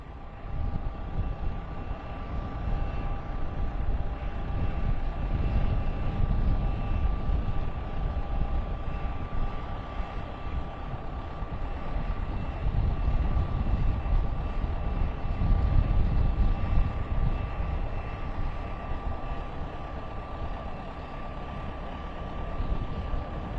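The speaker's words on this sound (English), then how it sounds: "The plane is just about to land." An airliner carrying a college football team home after a bowl game comes in to land, producing a steady, distant, broadband roar mixed with wind noise that holds throughout with slight swells.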